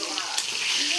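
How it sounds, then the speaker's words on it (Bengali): Potatoes fry in a pan, making a brief, even hiss of sizzling oil with a faint stir, heard close and alone for about a second. "আমি আলুটা ভেজে নিব।"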